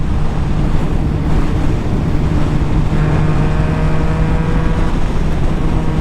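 Yamaha MT-09 motorcycle riding fast in A (sport) mode, rolling on the throttle with a loud, continuous engine drone buried under heavy wind rush for six seconds, with a faint rising engine tone toward the end; no talking.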